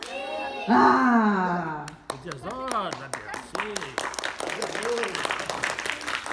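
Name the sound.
applause, clapping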